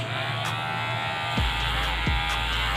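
A cordless electric hair clipper buzzes steadily and close up during a police-style haircut, its drone briefly dropping in pitch a few times as the blades bite into hair.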